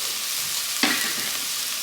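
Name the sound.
garlic sizzling as it is added to the pot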